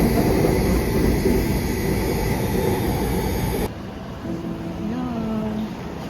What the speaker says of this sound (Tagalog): Sasakay kami ng MRT.